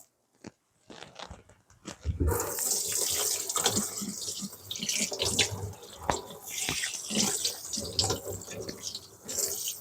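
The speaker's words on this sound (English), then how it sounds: "we're going to give this fish a quick wash" Tap water runs steadily into a sink as a salmon loin is rinsed, with close splashing and wet handling noises over the flow after a brief quiet start.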